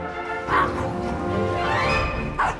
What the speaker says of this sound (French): Ces 2 chiens aboient au moindre bruit.